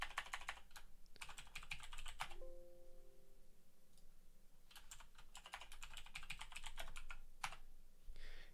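Quick bursts of typing on a computer keyboard, close and quiet, come in clustered runs with a short pause and a brief tonal chime in between.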